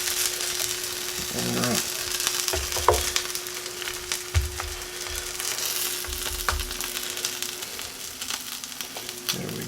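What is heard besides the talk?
chicken quesadilla frying in pan after flipping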